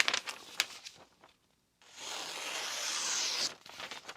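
A Magnacut Meglio funayuki kitchen knife slices through a small piece of paper after sharpening on a King Hyper 1k stone, giving a steady close hissing, rasping cut of about a second and a half following a few light handling taps.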